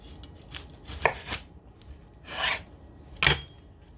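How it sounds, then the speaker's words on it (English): A knife slicing lengthwise through a vegetable on a cutting board for risotto: four or five crisp, close cuts with brief scraping strokes and quiet pauses between them. "you're going to take your knife and you're going to want to cut down lengthwise between the root"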